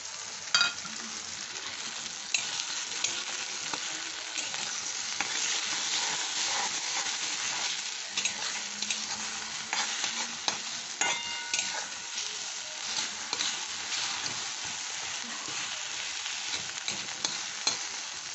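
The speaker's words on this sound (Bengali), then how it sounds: "এইবার আমি এই ডিমটা ঢেলে দিচ্ছি" Beaten egg fries with a steady sizzle in a hot pan, with occasional scraping and stirring clicks throughout, no voices.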